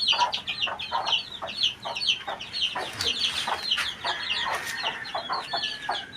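Chickens and small chicks cluck and peep near by in a rural yard, with a steady run of overlapping soft clucks and high chirps, one longer rising call near the end.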